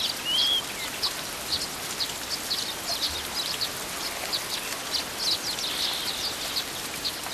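Rain falling in Jawai, Rajasthan, a steady soft patter of drops across the whole stretch, with scattered high bird chirps and calls standing out faintly above it in the distance.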